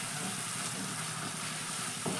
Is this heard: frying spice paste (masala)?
yes